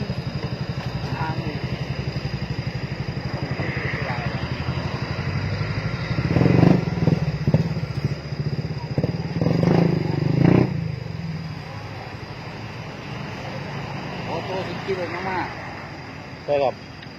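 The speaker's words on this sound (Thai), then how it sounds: "ขี่มอใส่ครับ" Motorcycle ride with a steady engine drone throughout, growing louder in the middle, while people talk over it.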